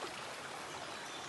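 A clear mountain stream on a waterfall trek at Thirumoorthy Malai flows and trickles steadily, a close, continuous wash of water with no voices.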